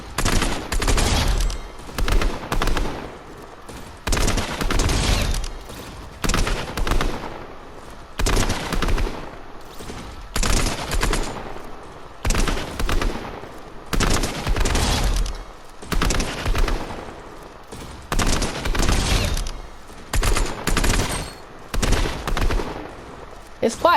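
Rapid bursts of gunfire in the Raiders video game aim trainer, loud repeated volleys separated by short pauses throughout, with no talking.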